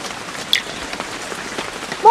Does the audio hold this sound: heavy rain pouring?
yes